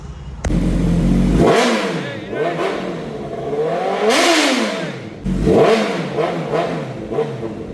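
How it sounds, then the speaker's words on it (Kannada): A vehicle engine revs hard in repeated bursts, rising and falling in pitch as the throttle is blipped, loud and close, with no one speaking. "ಒಮ್ಮೆ ಆ ಗಾಡಿ ರ್ಯಾವ್ ಕೊಟ್ಟಿದ್ದು ನಮ್ಮ ಕಡೆ ಒಂದು ವಿಡಿಯೋ ಐತ್ರಿ"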